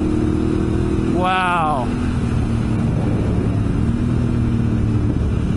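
A Honda Africa Twin DCT motorcycle with dual-clutch transmission drones steadily, its engine pitch stepping as it moves between gears while riding, with a rider exclaiming once over the loud, continuous engine and wind noise.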